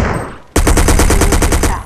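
Loud machine gun firing in the GTA video game, a tight rapid burst of evenly spaced shots that cuts in suddenly after a brief quieter moment and continues steadily to the end.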